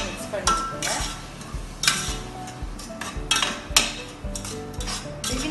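A spoon stirs a coconut burfi mixture in a pan on high flame, scraping repeatedly in an uneven rhythm with soft clinks of metal against the pan, close and fairly loud.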